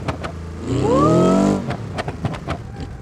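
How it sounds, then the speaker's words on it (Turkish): A car engine in the video game BeamNG.drive revs up loudly and sweeps upward in pitch, then drops away, leaving a rumbling idle with scattered clicks and knocks. "Arabanın sesi çok yüksek."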